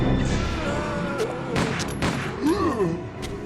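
Rapid gunfire from the video game Resident Evil 2 rings out in a quick cluster of loud shots, mixed with game effects and voice sounds.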